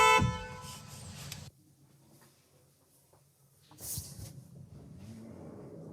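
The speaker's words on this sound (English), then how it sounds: "I'll begin by honking the horn." A car horn honks outside a house, heard as one loud, steady tone lasting about a second and a half at the very start, then cutting off into quiet background with a brief faint noise later.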